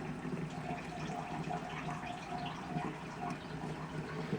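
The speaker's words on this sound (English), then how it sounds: "Now is just fill the rest of the way with water." Tap water running slowly into a jug of homemade laundry detergent, a soft steady pouring hiss that continues evenly throughout, fairly quiet and alone.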